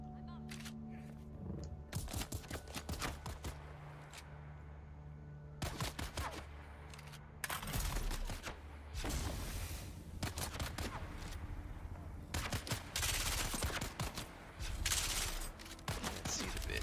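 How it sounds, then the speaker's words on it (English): Bursts of gunfire ring out in Dune: Awakening, scattered volleys and single shots across the stretch, some loud and close, others farther off, with game ambience between them. "Somebody was shooting."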